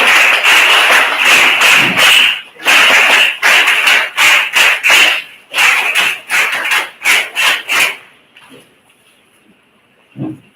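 Audience applause at a school elocution competition, loud close clapping in uneven bursts that breaks off into a few faint claps and near silence near the end.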